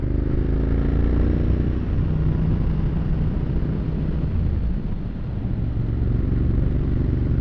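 A motorcycle engine idles with a steady, loud low rumble, dipping slightly once before settling back.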